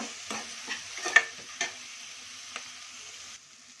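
Fenugreek leaves fry in oil for a fish curry, making a faint sizzle with several light taps of a spoon stirring the pan, and no voices.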